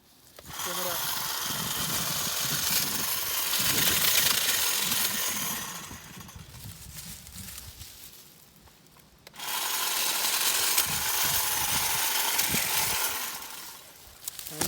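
A DeWALT hedge trimmer cuts through branches of fast-growing shrubs, its loud, close buzzing and rasping running for about six seconds, dropping away during a pause, then starting again for another long pass.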